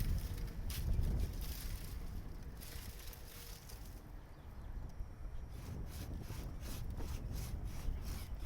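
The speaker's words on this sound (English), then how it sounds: "I'm going to go ahead and take the majority of this off, and then I'm going to come back and make a cut right here at the base." A hand saw rasps through a crepe myrtle branch in a garden, its rhythmic back-and-forth strokes steady and close throughout, with no voices.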